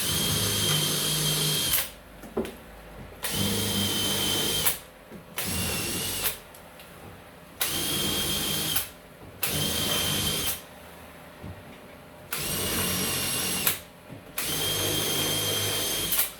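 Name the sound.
power drill driving fixings into timber door lining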